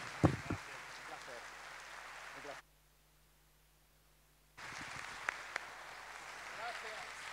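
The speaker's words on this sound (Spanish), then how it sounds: "Un aplauso fuerte" Audience applause in a theatre at a musical tribute gala, a broadband wash of clapping that cuts off for about two seconds of near silence and then resumes at a similar moderate level.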